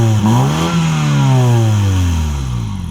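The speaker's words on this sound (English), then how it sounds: "that was the sound of the twin chrome pipe exhaust on the back of this Mini Cooper S 60th anniversary edition" Mini Cooper S 60th anniversary edition with twin chrome exhaust pipes revs hard, pitch climbing then sweeping back down in one loud, close blip before settling toward idle.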